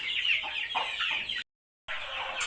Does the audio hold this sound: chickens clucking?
yes